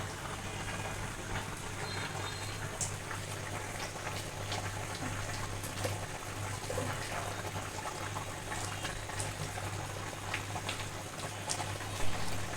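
Rohu fish and vegetables simmering in a pot, a soft steady bubbling with faint liquid ticks and a low hum underneath, continuous and fairly quiet with no voices.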